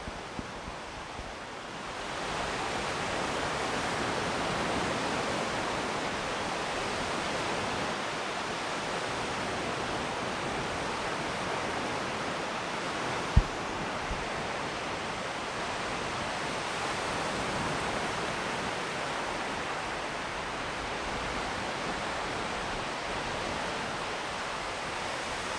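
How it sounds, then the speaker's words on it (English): Ocean surf at Henderson Beach State Park in Destin, Florida, makes a steady, broad rushing wash with soft wind noise and one brief knock partway through. "You guys hear the waves?"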